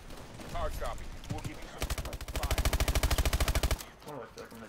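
Automatic gunfire in Call of Duty: Advanced Warfare, a steady rapid machine-gun stream of evenly spaced shots lasting about two seconds, loud and close, with speech before and after it.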